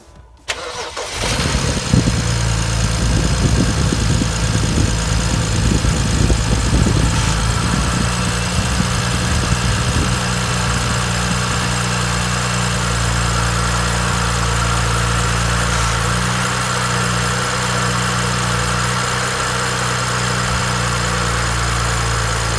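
A BMW car engine cranks briefly, catches and settles into a steady, even idle with a constant low hum that runs on without a break.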